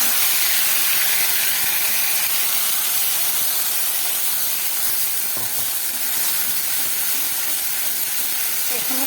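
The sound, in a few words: ground spice paste added to hot oil in a wok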